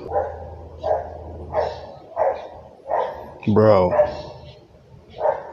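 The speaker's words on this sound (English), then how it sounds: "You hear that stupid dog?" A dog barks repeatedly in the background, roughly once every half second to second in a steady series, while a person speaks briefly nearby.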